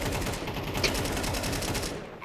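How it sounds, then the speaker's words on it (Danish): Rapid gunfire in a Counter-Strike esports match between Shadow Kings and Crystal Pigeons in a Danish league, a dense, continuous rattle of shots filling the whole stretch at steady loudness, with faint commentary under it. "Little får bomben ned, men bliver derefter skudt"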